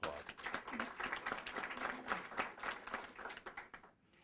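Audience applause for a newly appointed county official at a county government announcement, a dense steady patter of clapping lasting about four seconds before fading out.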